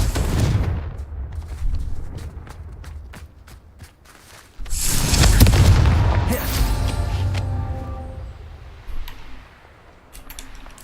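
A Confringo spell explodes in Hogwarts Legacy with a loud, close blast that is followed by a sustained rumbling roar. Before it come rapid sharp cracks and bursts of combat, and a brief ringing tone sounds near the end.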